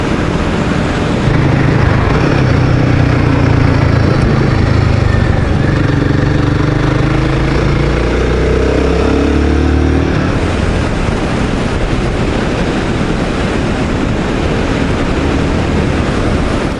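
A Royal Enfield Guerrilla 450 motorcycle rides over a rough road, its engine drone and wind roar loud and constant throughout, with the engine note shifting partway through.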